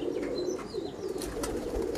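A Pakistani Teddy racing pigeon coos in low, continuous murmurs, with faint chirps and light rustling close by.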